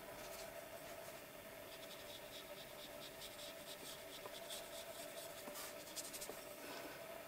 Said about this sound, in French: je vais dessiner par-dessus des sapins